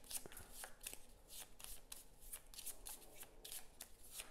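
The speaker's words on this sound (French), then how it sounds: "j'ai plus de cartes, donc je vais devoir mélanger" Playing cards shuffled during a Maquis board game, a quiet run of papery riffles and soft flicks repeating steadily at close range with no talk.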